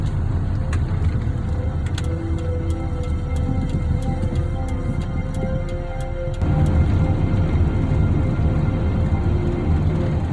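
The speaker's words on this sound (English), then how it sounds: "a great example of the views as you're driving down the road here in St." Steady road and engine rumble from inside a car driving along a road in St. George, Utah, continuous and fairly loud, with a brief shift in tone partway through and no talking.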